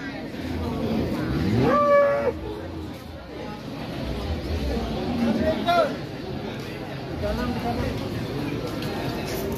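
Cattle moo a few times, a drawn-out low call followed by shorter ones, amid outdoor background chatter and general crowd noise.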